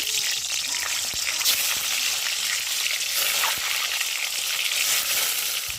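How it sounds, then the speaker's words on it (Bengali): Duck eggs fry in hot oil in a pan, giving a steady, bright, hissing sizzle with small crackles and pops throughout. "তেলটাও খুব ভালো করে গরম করে নিচ্ছি এবার ডিমগুলো দিয়ে দিচ্ছি"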